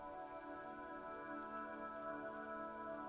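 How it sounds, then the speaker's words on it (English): Rain falling in the video game Disco Elysium, a soft, even hiss of rainfall that holds steady and quiet under a low tonal hum, with no voices. "Standing in the rain, looking north"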